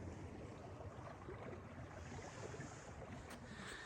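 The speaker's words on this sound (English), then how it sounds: "You can hear the water." A stream in Algonquin Park runs through snowy early-spring woods, giving off a steady, even rush of flowing water that holds at one level throughout with no voices.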